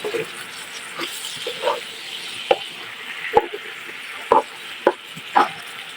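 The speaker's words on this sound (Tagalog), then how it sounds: "Ilalagay na natin yung ating soy sauce. 1/4 cup. Haluin muna natin." Soy sauce being stirred into buttered chicken adobo in a pan, soft sizzling under a series of spaced utensil scrapes and clinks against the pan, fairly quiet and close.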